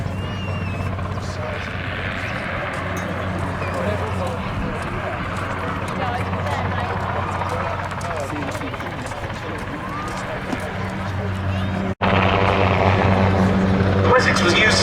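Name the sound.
Westland Wessex helicopter flying at Duxford air display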